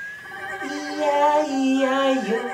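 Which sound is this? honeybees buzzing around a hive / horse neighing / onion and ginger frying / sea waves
horse neighing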